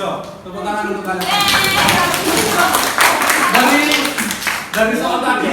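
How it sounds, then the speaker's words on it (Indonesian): A classroom of secondary students claps briefly in unison, close and lively, with voices chattering and calling out over the clapping. "Tepuk tangan untuk kalian."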